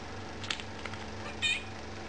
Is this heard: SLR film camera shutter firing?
no